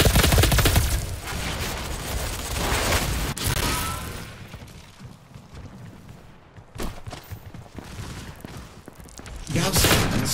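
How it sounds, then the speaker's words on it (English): Heavy weapon fire from a Gauss Cannon in the first-person shooter Doom; loud, booming blasts and crashing bursts come in clusters near the start and end, with a quieter stretch of rumble and scattered impacts between them. "Incoming Gauss Cannon."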